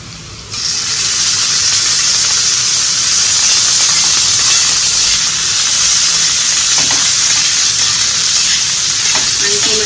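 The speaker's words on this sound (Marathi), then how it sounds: "कांदा गुलाबी झालाय. आता आपण याच्यामध्ये टोमॅटो घालणार आहोत." Tomatoes drop into onions already frying in a pan for Puneri misal, setting off a loud, steady, close sizzle with hissing steam that holds unbroken from just after the start to the end.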